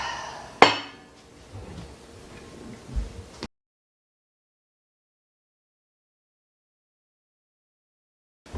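A pot of pizza sauce is set back on the stove: one sharp metallic clank, then a few softer knocks and clinks before the sound cuts to silence.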